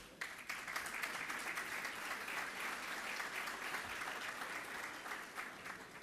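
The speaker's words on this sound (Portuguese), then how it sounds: "Pode aplaudir." Audience at a panel event on outsourcing applauds, a dense steady wash of clapping that starts abruptly and carries on evenly for about six seconds, somewhat distant and quiet.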